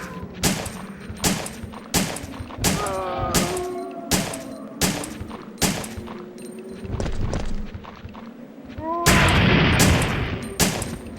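Gunfire in Resident Evil 3: Nemesis on PlayStation: a string of sharp, loud shots at a steady pace, one every half second or so, with a few short gaps and a denser burst near the end. Brief tonal game sounds mix in partway through.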